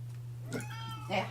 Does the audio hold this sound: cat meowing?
yes